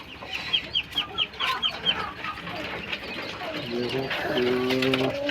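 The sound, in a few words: kalij pheasant chicks and poultry on a farm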